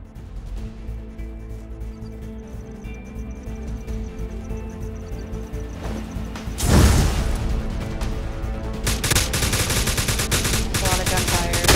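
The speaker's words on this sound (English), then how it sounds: "A lot of gunfire." Bursts of rapid gunfire erupt partway through the video game Miscreated, a loud crack followed by sustained automatic shooting over a steady game soundscape.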